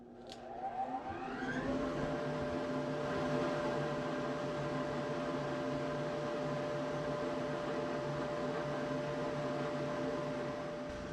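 A woodworking planer with a spiral cutter head that has lost a tooth runs steadily at close range, giving a continuous whirring drone with a steady tonal hum and no pauses.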